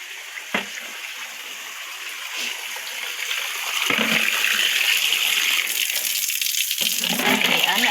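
Water gushes steadily from a tap or hose into plastic buckets, a continuous hiss and splash that grows louder and fuller about halfway through, with a few sharp knocks along the way.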